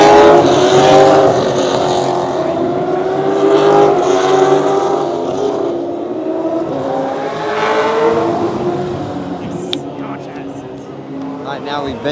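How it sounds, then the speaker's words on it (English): Supercars race during a qualifying session at the Australian Grand Prix in Melbourne, engines roaring loudly as cars sweep past in successive waves, their pitch rising and falling, with a person talking over the noise. "Qualifying session 2 for the supercars."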